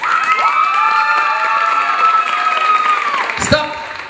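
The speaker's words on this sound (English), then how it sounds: "You have to clap your hands if you think USA is in the first place." An audience at a banquet party dance contest during the Grand Prix Holon 2015 claps and cheers loudly to vote for a team, a sustained wash of shouts and applause that stops abruptly near the end.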